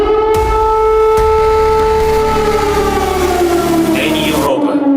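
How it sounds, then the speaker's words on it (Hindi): An air raid warning siren wails loudly and steadily in wartime Ukraine, its rising and falling tones holding for about four seconds before cutting off abruptly into quiet. "हवाई हमले से अलर्ट करने वाला सायरन गूंजने लगा"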